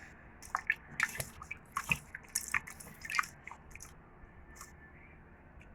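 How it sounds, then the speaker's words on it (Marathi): Several small splashes and plops as thin potato slices drop into water one after another, irregular and close, with light knocks in between. "बघा असे पाण्यात टाकायचे कापून"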